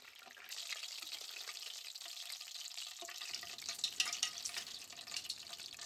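Tempura deep frying in hot oil, a steady dense crackling sizzle that starts softly, swells, and keeps bubbling throughout with brief louder pops, close and alone with no voices.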